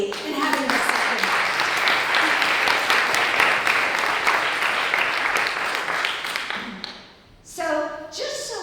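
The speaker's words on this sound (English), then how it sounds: "So I think another round of applause for Tom's creativity in having this second" An audience at a speech on humanitarian expressive therapy breaks into sustained applause, dense steady clapping for about seven seconds before fading, with a brief voice afterward.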